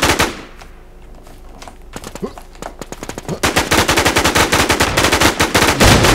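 Sustained automatic gunfire crackles in a PvP survival shooter match, the enemy shooting from behind a rock: sparse shots at first, then dense rapid bursts building to a loud continuous barrage, with no voices.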